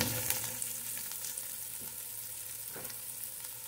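White onion frying in a pan with oil for chicken sotanghon soup, a steady close sizzle and crackle with occasional stirring scrapes, no talking.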